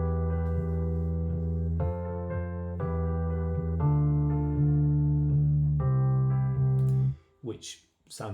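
Bass line played back in music software, a run of sustained low notes changing every second or so, clean and prominent, then ending abruptly with a few brief noisy sounds at the close.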